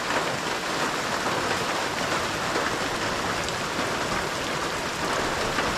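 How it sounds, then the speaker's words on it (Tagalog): Steady early-morning rain falls and patters densely on a surface, an even hiss with no voices and no change in intensity. "Ayan, ulan po ay."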